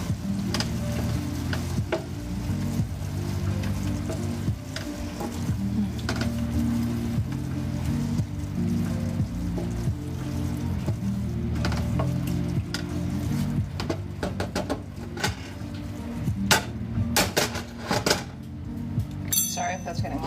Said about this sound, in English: Just letting my onions simmer.